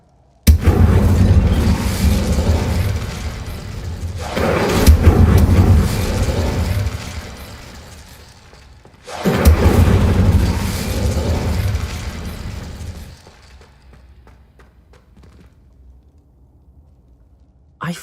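Loud fiery blasts from the Incendio spell in Hogwarts Legacy, two long roaring bursts separated by a brief gap, then fading to near quiet.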